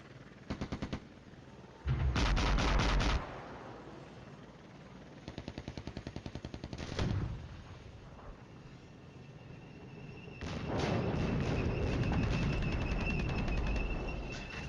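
Artillery and gunfire from the war game Flashpoint Campaigns: Cold War crackle in bursts of rapid repeated reports, with a deep boom and a long rumbling barrage near the end, set over a faint steady background.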